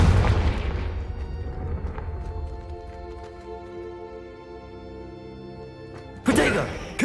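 Confringo blast spell in Hogwarts Legacy, a deep booming explosion that rumbles and rings out over several seconds, followed by a sharp second burst near the end.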